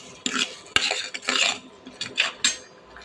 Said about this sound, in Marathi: पाव चमचा गरम मसाला घालून व्यवस्थित परतून घ्यायची आहे।